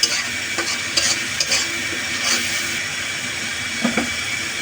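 Chopped tomatoes hit hot oil in a pan and sizzle loudly and steadily, with a few stirring scrapes and brief spatters breaking through the continuous hiss.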